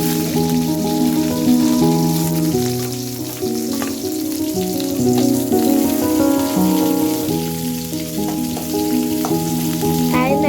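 Shallots sizzling in hot coconut oil with mustard seeds, a steady loud frying hiss running throughout while music plays over it.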